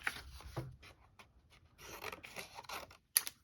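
Scissors snip quietly through paper for a card craft, close and faint, with soft rustling cuts and one sharper snip near the end.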